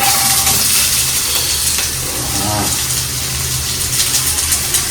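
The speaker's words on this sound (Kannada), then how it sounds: "ಉಳ್ಳಾಗಡ್ಡಿ ಫ್ರೈ ಮಾಡ್ಕೊಳ ಫುಲ್ಲ" Onions frying in a pan for pav bhaji, giving a steady, close, hissing sizzle that runs unbroken throughout, with faint stirring sounds underneath.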